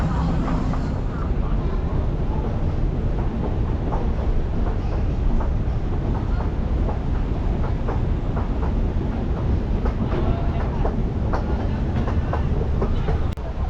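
A Shanghai metro train runs with a continuous loud rumble and rattling clatter throughout, with muffled voices mixed in beneath the noise.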